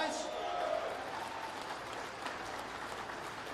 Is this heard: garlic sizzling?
no